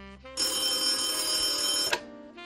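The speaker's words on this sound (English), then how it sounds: "Sonny, the phone's ringing." A telephone bell rings once in a loud, sustained metallic trill that cuts off abruptly, close by.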